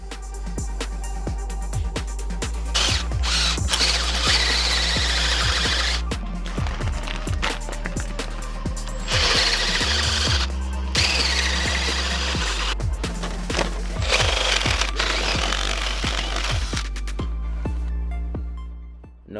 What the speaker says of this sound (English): So this is where you're gonna drill your hole to run your wire down to the switch.